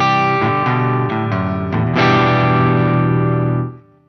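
Electric guitar played through a Soldano SLO-100X amp with an overdriven tone, a few distorted chord hits leading into one loud sustained chord that rings for about a second and a half and then cuts off.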